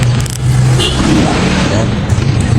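A worn Marvel 125 motorcycle engine, often short of oil changes, starts and runs loud and close with a rough, grinding mechanical clatter that holds steady throughout.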